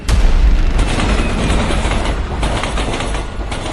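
A mail train rushes past on rails in a loud, close, continuous roar with a dense rumble and rattling clatter that stays steady for several seconds, with no voices.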